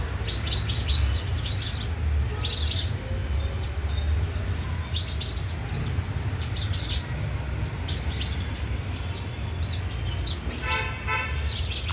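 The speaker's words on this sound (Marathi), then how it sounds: "जो पहिला फिलिंग यायचा चिमण्यांचा, जो मध्यंतरी आवाज बंद झाला, तो आवाज परत चिवचिवाट चालू झालेला आहे" Many sparrows chirp and twitter continuously at a moderate distance, their busy calls layered over a steady low rumble of background noise, with a faint vehicle horn-like toot in places and no talking.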